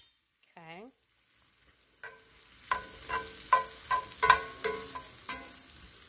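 Apples being stirred in a pan, a quiet start with a brief whistling tone, then a series of close scraping and clinking stirring strokes in an irregular rhythm.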